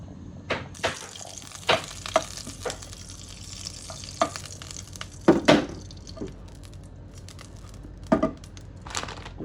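Ghee heats in a pan for roasting flattened rice, giving a soft, low sizzle. Sharp clinks and scrapes of a utensil against the pan land at irregular intervals, and there is no speech.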